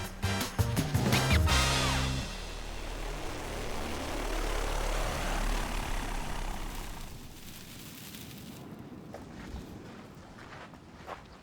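An agricultural spraying drone flies low over village farmland, giving a loud, steady whirring buzz that dominates the first seven seconds and then fades into quieter ambience.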